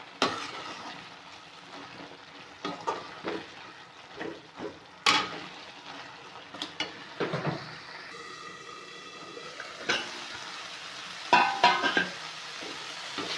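Spinach and onions frying in a pan for palakura ulli karam, a low continuous sizzle broken by frequent stirring scrapes and clinks from a utensil, close and moderate in level.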